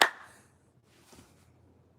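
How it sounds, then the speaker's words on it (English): A single sharp hand clap in a forest, loud at the start and fading into a faint echo that returns about a second later before quiet. "Damn, that clap echoed for like 6 miles"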